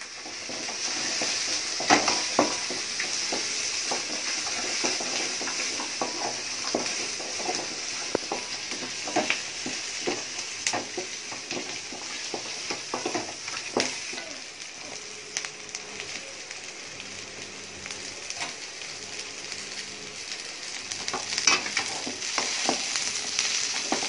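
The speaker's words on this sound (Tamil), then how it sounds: "அதையும் போட்டு நல்லா வதக்கிக்கோங்க." Garlic and ginger sautéing in oil for channa masala, a steady close sizzle with frequent scraping clicks of a spoon against the pan, running continuously with no voices.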